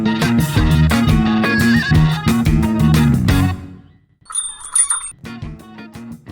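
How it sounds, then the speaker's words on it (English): An electronic entrance chime rings as someone walks into a store, a bright two-tone ding after a burst of loud music that fades to near quiet. "And I'm in. There's that lovely chime."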